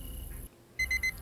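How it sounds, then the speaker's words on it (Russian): Alarm clock going off in Zompiercer, a short burst of three quick electronic beeps after a brief hush, fairly close and clear over a faint background hum. "Будильничек сработал."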